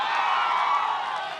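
A studio audience at a televised political debate from Gaya, Bihar applauds and cheers to welcome a guest, a steady, moderately loud crowd roar with clapping that lasts about a second and a half.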